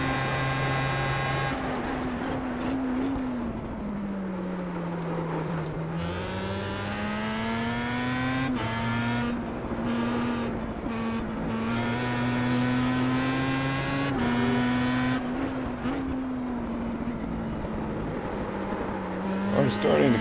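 A Star Mazda race car in the iRacing sim at the Nürburgring GP circuit drones steadily, its engine pitch climbing and falling through gear changes as a driver talks over it.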